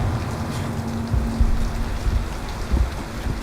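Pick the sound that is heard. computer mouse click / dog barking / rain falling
rain falling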